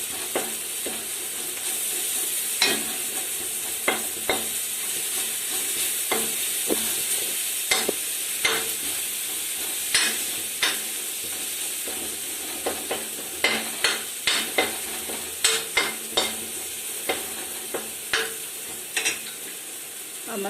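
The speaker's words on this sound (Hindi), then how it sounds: "अब मसाले को भूनने देंगे" Spices roasting in oil in a pan on low flame for a rajma curry, a steady sizzle broken by repeated sharp scrapes and clicks of a spoon stirring against the metal, close and fairly loud.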